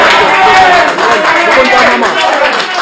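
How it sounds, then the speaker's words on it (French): Audience at a Werrason press conference clapping for a representative, a loud, dense burst of hands with crowd noise and voices mixed in. "applaudissez Sorel qui représente Werason"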